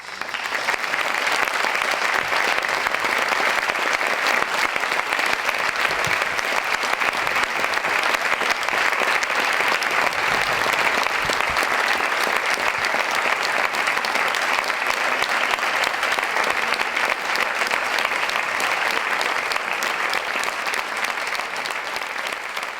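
Sustained applause from an audience at a tribute event, a dense, even wash of clapping that holds steady and loud throughout with no talk over it.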